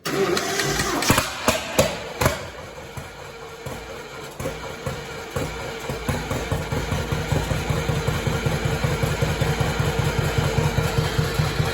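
A small engine settles into a low idle after a few loud knocks and clatters at the start, then chugs with an even, rapid pulsing beat for several seconds, close by and with no one talking.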